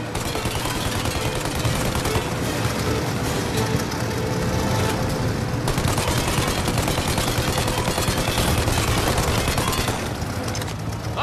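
Dense, rapid gunfire from Mafia: Definitive Edition, fired from a plane, rattles without pause, loud and continuous, blending into a roaring engine-like background.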